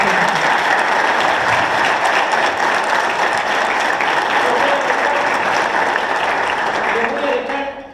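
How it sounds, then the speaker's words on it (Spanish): Audience at an engineering talk breaks into strong, sustained applause, a steady loud wash of clapping that fades out at the very end. "Un fuerte aplauso, por favor."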